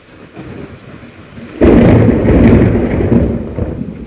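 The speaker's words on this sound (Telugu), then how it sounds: "చూసారా ఎలా ఉరుముతుందో?" A loud clap of thunder breaks over steady rain during a rainstorm outside a home, a sudden heavy rumble rolling on for a couple of seconds above the constant patter of falling rain.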